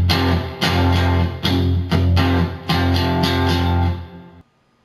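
Distorted electric guitar chugs a palm-muted riff from a song, its heavy low chords broken into choppy rhythmic bursts before ringing out and cutting off near the end.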